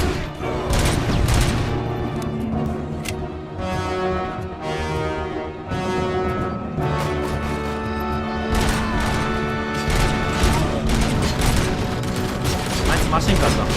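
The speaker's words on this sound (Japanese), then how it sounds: "あいつマシンガンだ" Machine gun fire in the video game Robocop: Rogue City roars loud and continuous, dense rapid bursts piling into a steady wall of gunfire with crashes and booms mixed in, and no talking over it.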